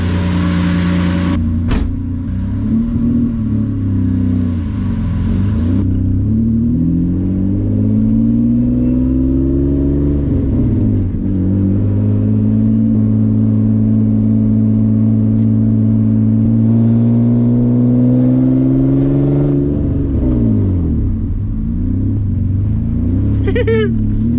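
Single-turbo Nissan 350Z on a test drive, the engine loud and close as it accelerates through rising and falling revs with gear changes, a droning exhaust note filling the whole clip.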